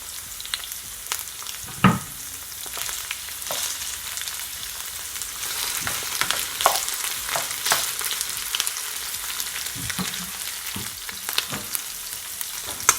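Saltfish frying in a pan for Jamaican callaloo fried rice, with a constant soft sizzle broken by occasional stirring scrapes and a few sharper utensil knocks, close and moderately loud.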